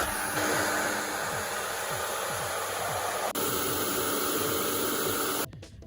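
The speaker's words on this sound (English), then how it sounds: "now I'm gonna go dry it off with a hairdryer" A Corsair hair dryer blows steadily on a wet SSD, a loud continuous broadband whoosh that holds for several seconds before abruptly cutting off near the end.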